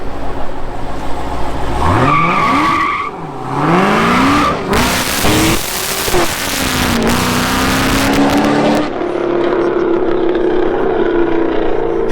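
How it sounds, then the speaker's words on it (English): A Dodge Challenger Hellcat Redeye engine revs up and down loudly as the car accelerates, pitch rising and falling through gear changes, with a roaring burst in the middle. "That's the first time I ever heard somebody driving my car."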